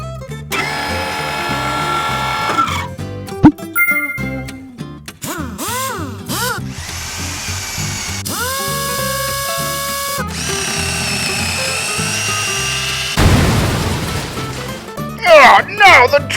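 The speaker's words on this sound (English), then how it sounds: "it looks like we're supposed to drill right about here" During Lego City space toy play, a voice makes drilling noises, with whirring, buzzing bursts broken by short pauses and a few sharp knocks.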